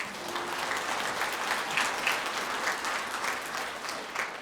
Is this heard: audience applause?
yes